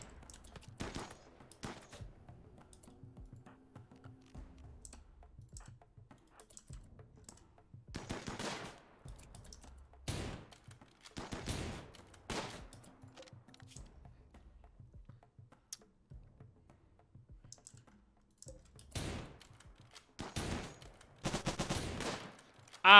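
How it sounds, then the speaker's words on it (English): Colonists trade gunfire in Rimworld in short sharp bursts and single shots spread across the stretch, some in quick clusters, with quiet gaps between them. "so let's take a couple pot shots"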